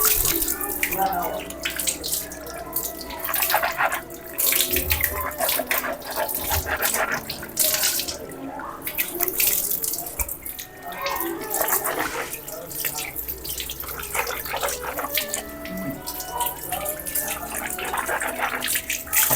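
A tap runs steadily into a sink in a school washroom in Bangladesh while hands and face are washed, with continuous splashing and dripping, close by, under occasional faint voices.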